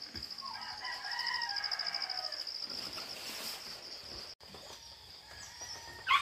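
Chickens at a hut during feeding, with a rooster crowing and hens clucking nearby; the calls come in uneven bursts over a quiet rural background and fade toward the end.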